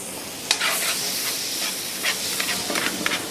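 Pieces of cottage cheese frying with spices in a very hot pan on a gas flame, giving a loud steady sizzle and hiss with stirring scrapes and crackles up close.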